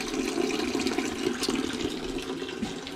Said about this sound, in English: from the bottom drain petcock on the bottom of the radiator, comes down. You see it's draining into my bucket here